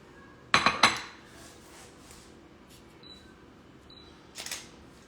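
A camera shutter fires twice in quick succession, sharp close clicks, then one fainter click a few seconds later over a quiet room with a couple of small beeps.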